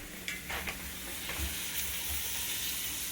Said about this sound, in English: I want to make sure that all of my onions are translucent and starting to caramelize a little bit